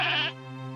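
A young goat with a broken leg lets out one short, close bleat lasting under a second, which then fades into a quieter tail.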